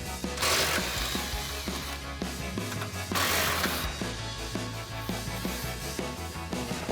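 Impact wrench with an 18mm socket pulling front bumper bolts off a 2011-2016 Ford F-250 Super Duty, two loud hammering bursts about three seconds apart over a steady mechanical rattle.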